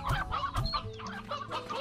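Chickens and roosters in the video game Slime Rancher cluck in quick, close bursts with a short crowing note, several birds overlapping without pause and no talk.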